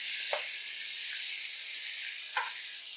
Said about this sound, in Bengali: খুব ভালো করে মশলাটা দিয়ে নাড়াচাড়া করে নেব।